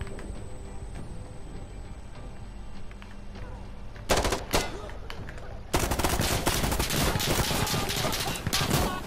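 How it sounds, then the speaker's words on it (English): Automatic weapons rattle in the PS4 co-op shooter Insurgency Sandstorm, starting as scattered distant shots before erupting into loud, sustained close-range bursts that run to the end. "Holy, who's shooting me?"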